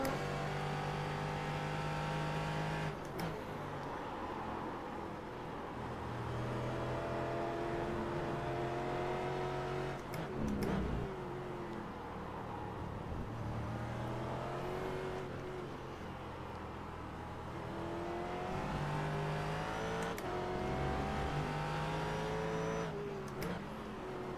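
A Ford GT race car engine at Interlagos in an iRacing sim race, droning steadily and loud with rising and falling pitch through gear changes, with sharp shift cuts every few seconds and no talk.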